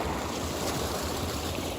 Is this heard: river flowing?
yes